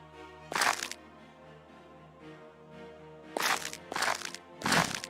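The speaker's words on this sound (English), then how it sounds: "Sounds like little Crunchy dude just got destroyed." Crunchy crackling bursts as a small enemy is destroyed in the dungeon game Dungeonmans: one sharp crunch, then a quick run of three more close, loud cracks over a faint tonal background.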